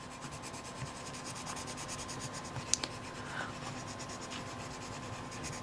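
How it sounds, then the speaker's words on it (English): A Caran d'Ache blending pencil rubs steadily across paper in a colouring book, giving a soft, continuous close scratching with small ticks throughout and no talk. "This is Caran d'Ache blending pencil. I'm just going to try and tidy up those blend lines a little bit."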